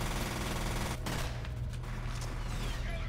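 Rapid automatic gunfire in the shooter game F.E.A.R., a dense fast burst of shots with a steady low background rumble, fairly faint and without talk.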